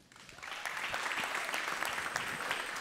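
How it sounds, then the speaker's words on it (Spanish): Audience applause for musicians at the close of a Costa Rican music program, a dense steady wash of many hands clapping that swells within the first half second and holds loud and even to the end. "Un fuerte aplauso para ellos."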